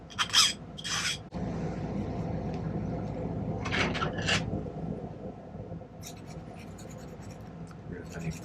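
Metal file evening the edges of a silver spinner ring, a close scratchy rasping with a few sharper strokes, heard alone and mostly continuous.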